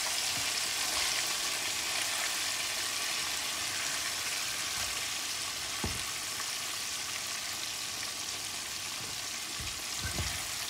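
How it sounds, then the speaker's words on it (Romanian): Pieces of oxtail fry in a pan in a constant, close hiss of hot fat that runs the whole time, with a couple of low knocks from the pan, and no talking over it. "M-am dat în cărnița, frumos, încet, încet să nu ne ardem. O lăsăm să prăjească bine, bine pe ambele părți."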